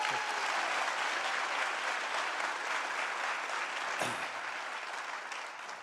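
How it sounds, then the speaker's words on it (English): Extended applause from a civic luncheon audience at the Newport News State of the City event, a broad, steady crowd clapping that slowly eases in loudness over several seconds. "We'll go with extended applause for the presenting sponsor"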